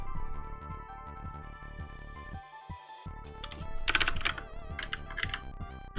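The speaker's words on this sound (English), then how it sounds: "I'm not used to this keyboard, apologies." Steady fast typing on a computer keyboard during a coding session, close and clear, a run of crisp key clicks with brief pauses and a louder burst near the end, with no talking.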